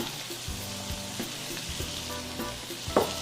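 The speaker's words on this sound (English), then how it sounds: "So we got the grease hot. We're going to get this in and start sweating these out." Peppers sizzle in hot grease with a steady fry and a few close knocks and scrapes as they go into the pan, lasting a few seconds. No one talks.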